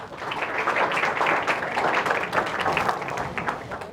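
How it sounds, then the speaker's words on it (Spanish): An audience in a talk applauds, a dense wash of many hands clapping at moderate loudness, swelling and fading slightly over a few seconds. "Un aplauso para ella."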